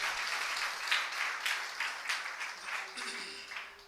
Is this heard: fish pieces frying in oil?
no